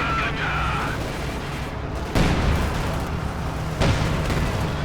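Tank gunfire and explosions in the real-time strategy game Company of Heroes 2, a Panther tank under fire, with a continuous rumbling battle bed broken by two sharp heavy blasts.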